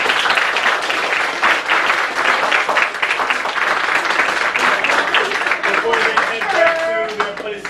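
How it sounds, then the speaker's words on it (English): A school audience claps in a steady round of applause at a student event, loud and continuous throughout, with scattered voices and chatter rising near the end. "Let's give these guys a round of applause."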